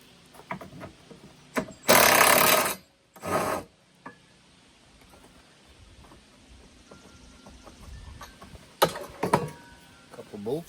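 Bolts holding the rack on a four wheeler come loose with short harsh bursts of power-tool whirring and scraping, alternating with quieter metallic fiddling and rubbing nearby.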